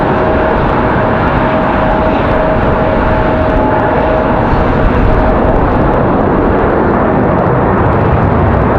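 An airliner departs from Raleigh-Durham airport on a windy day, a sustained engine rumble with a faint steady whine running through the first half, holding level throughout with no talking.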